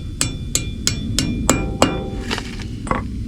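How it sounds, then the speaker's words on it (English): Ball peen hammer tapping a brake part during a front brake job on a 1990s Chevrolet Kodiak truck: eight or so sharp, close metallic taps at an uneven pace, with workshop background noise and no talk. "Just gotta tap it on in there just a little bit."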